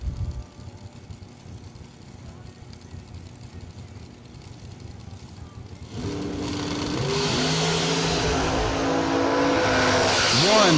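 Supercharged Mickey Thompson dragsters at a drag racing event, a low engine rumble building into a loud roaring run down the strip, with engine pitch sweeping as it passes, amid a public-address announcer and crowd noise.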